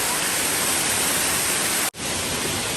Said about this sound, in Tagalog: this waterfall is perfect for whole family